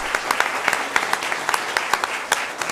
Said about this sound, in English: let's have one more round of applause for our second place winners